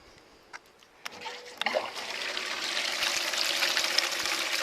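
Water starts flowing through a homemade mini high banker for gold, a few clicks and clunks first, then a rising, steady rush and splatter of water over the screen, close and continuous.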